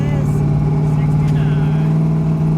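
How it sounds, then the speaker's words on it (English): Twin-turbo Fox Body car engine holds a loud, sustained full-throttle roar with a strong steady tone, close up, while a voice talks faintly underneath. "Gonna go full throttle. Wait for it. There it is."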